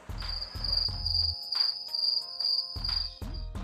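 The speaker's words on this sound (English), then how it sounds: "Crickets." A continuous high-pitched cricket chirp trills steadily, joined by intermittent muffled thumps and rustles nearby.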